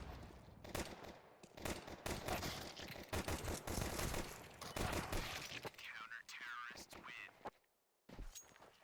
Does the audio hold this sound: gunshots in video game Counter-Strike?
yes